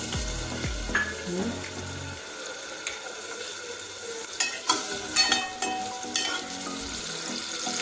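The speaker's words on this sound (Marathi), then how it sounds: "भाजीला थोडा कांदा ठेवला होता तो टाकणार आहोत" Onion sizzles as it fries in hot oil in a pan, with a steady hiss and scattered clinks and scrapes of stirring, some louder bumps toward the end.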